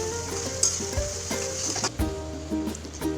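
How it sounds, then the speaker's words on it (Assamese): Chopped onions frying with panch phoron and a dried red chilli for a bhendi masala, a steady sizzle with occasional stirring scrapes and clinks running throughout. "এয়া পিঁয়াজখিনি ভজা হৈ গ'ল"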